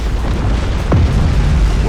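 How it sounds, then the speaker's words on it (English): Torpedoes striking the nose of a cruiser in Battlefleet Gothic Armada 2: a loud, continuous low rumble of impacts, with one sharper hit and descending whoosh partway through. "we've just taken a spread of torpedoes to the nose of this cruiser here"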